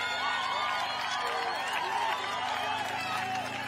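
Children cheer beside the course at a mixed-relay team time trial in cycling. Their excited, high voices form a steady crowd noise under commentary.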